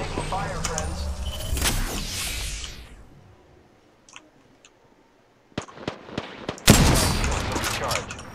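Gunfire in the video game Apex Legends Arenas: a dense burst of shots at first that fades away, then after a quiet gap a few sharp isolated cracks and a loud renewed volley, with game voice callouts mixed in.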